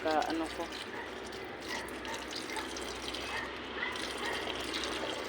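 Weak, thin trickle of water from a garden hose with low pressure, running steadily and fairly near throughout, with a person talking over it at times.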